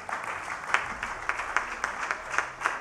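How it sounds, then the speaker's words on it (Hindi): Audience applause at an evening show honoring Pakistan cricket stars, greeting the team captain: a steady wash of many hands clapping, with sharper individual claps standing out, moderately loud and without speech. "तो तालियां प्लीज़ इनके लिए।"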